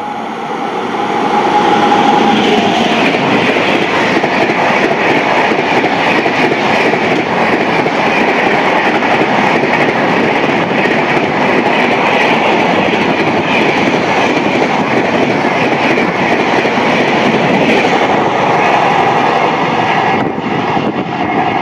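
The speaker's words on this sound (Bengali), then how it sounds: "এবারে আসছে 12313 অফ শিয়ালদা নিউ দিল্লি রাজধানী এক্সপ্রেস।" The 12313 Sealdah–New Delhi Rajdhani Express thunders through Baruipara station on the Howrah line at about 130 km/h. A loud, continuous roar of wheels and rushing air holds steady for about twenty seconds and drops away at the end.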